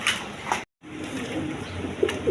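Blue shirting pigeons, a running breeding pair, coo softly in a loft, with a steady low murmur of birds and faint chirps throughout and a brief gap of silence near the start.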